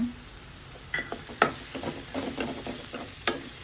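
Okra frying in a pan as chilli, coriander, cumin and turmeric powders plus garam masala are added, a soft sizzle broken by several sharp spoon scrapes and knocks against the pan.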